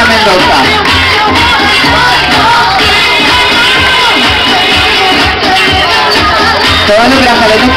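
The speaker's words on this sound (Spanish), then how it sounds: "Fuerte el aplauso para Kaila Mendoza." A pageant audience in Las Palmas de Gran Canaria erupts in loud sustained cheering, shouts and applause, a dense crowd roar that fills the whole stretch.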